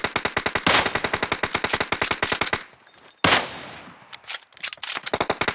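Rapid automatic gunfire from PUBG Mobile rattles in loud, evenly spaced bursts, pausing for a moment before more bursts and single shots resume, close and punchy.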